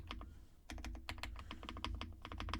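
Close, rapid typing on a Tecware Spectre 75 mechanical keyboard with straight PBT keycaps, a dense run of crisp key clacks that picks up after a brief pause and carries on steadily.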